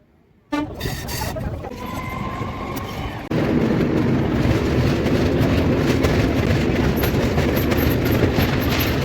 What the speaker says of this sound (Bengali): আর এই ট্রেন, বাপ রে বাপ, বারবার খালি দাঁড়াচ্ছে আর যাচ্ছে।